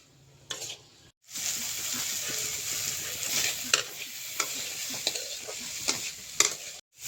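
Maggi noodles with turmeric and spices fry in a pan while being stirred, a steady sizzle broken by repeated scraping clicks of the utensil, with a short pause near the start.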